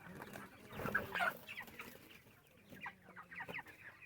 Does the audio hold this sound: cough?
no